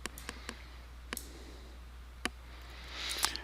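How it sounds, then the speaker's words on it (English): A few sparse, crisp keystrokes on a computer keyboard, spaced out and close, ending with a firmer press of the enter key over a quiet electrical hum. "I'm going to type CMD and hit enter to open the command prompt"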